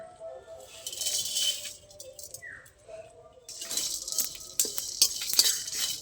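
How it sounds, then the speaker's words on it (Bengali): Dry fennel, white cumin, coriander seeds, black pepper and three dried red chillies are stirred and roasted together in a wok, giving scraping, rattling clatters in uneven bursts with quieter pauses between them. "মৌরি, সাদা জিরে, ধনে, গোলমরিচ আর 3টে শুকনো লঙ্কা একসাথে কড়াই দিয়ে দেবো"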